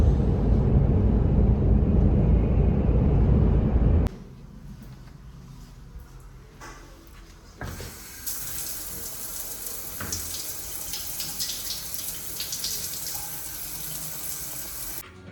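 A shower runs with a loud, steady rush of water for about four seconds, then settles into a quieter, continuous spray and patter.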